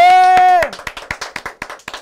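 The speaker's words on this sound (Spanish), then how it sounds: "¡Aplauso fuerte!" Audience applause at an El Coto TV show, a brief burst of roughly a dozen sharp claps following a loud sustained voice, spaced and fading somewhat like a small group.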